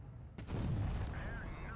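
A single heavy tank gun shot in a video game, a loud boom about a third of the way in followed by a rumbling decay, with quiet talk underneath.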